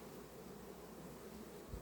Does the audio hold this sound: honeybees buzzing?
yes